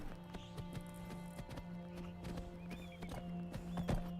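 Horse hooves clip-clopping in the modded Skyrim game LoreRim, a quiet, rhythmic series of sharp hoofbeats over a low game soundscape with faint background tones.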